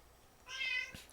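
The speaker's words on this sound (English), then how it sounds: "if you hear a cat in the background, that's just standard at this point" A cat gives a single short, clear meow from the background, rising and falling over about half a second against a quiet room.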